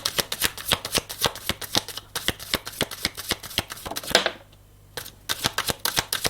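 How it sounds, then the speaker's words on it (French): A deck of playing cards is riffle-shuffled twice, a rapid run of crisp flicks ending in a brief bridge and pause, close and clear with no talk. "Laisse-moi battre les cartes, s'il te plaît."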